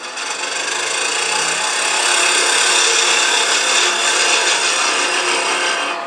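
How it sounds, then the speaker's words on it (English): A skew chisel cuts scrap wood spinning on a lathe, giving a continuous loud rasping, shearing hiss that swells slightly midway and stays even without talk. "So I'm going to use a skew just because for me it works out pretty well"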